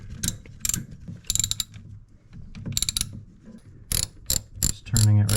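A socket wrench ratchets a screw into a refrigerator condenser fan during a repair, with bursts of quick, close clicking separated by short pauses and a low hum at the end.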